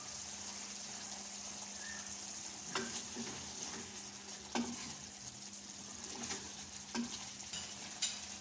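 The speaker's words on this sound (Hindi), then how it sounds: "चिकन को अच्छी तरह भूनना है।" Chicken karahi with karahi masala and cumin fries in a pan with a steady, loud sizzle, broken by a few sharp clanks of a stirring spoon against the metal.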